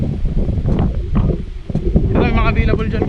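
Strong wind gusting outdoors near Tagaytay, a steady broadband rush buffeting the microphone throughout, with a person talking over it.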